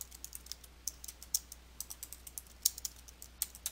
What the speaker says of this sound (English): and then type your text.